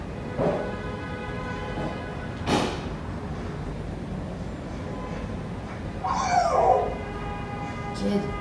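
Dog in a Minecraft game giving a few short, high whimpers and yips at intervals, the clearest burst near the end, over a faint steady background hum.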